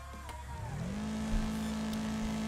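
Race car engines roar in Wreckfest, one car's engine climbing in pitch as it accelerates and then holding a sustained high drone, with other motors growling close by and a dull thud of contact partway through.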